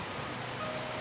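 Steady rain pours down during a wet planting season in rural Thailand, a dense even hiss of drops on surfaces filling the whole moment without any voices.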